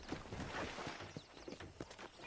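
Horse hooves clip-clop at an even walking pace on a hard surface in the video game Red Dead Redemption, fairly close and moderately loud, with no talking.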